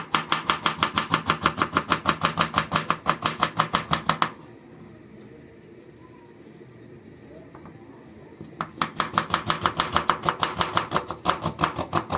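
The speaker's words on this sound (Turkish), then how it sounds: "Önce soğanlarımı ince ince doğruyorum." Onions being finely chopped with a knife on a board for tantuni, rapid regular blade taps in two long bursts separated by a quiet pause, close and clear with no talking.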